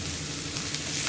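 Onions sizzle steadily in a pan while cooking for a coriander tomato chutney, a loud close hiss and crackle throughout the short moment, with no talk.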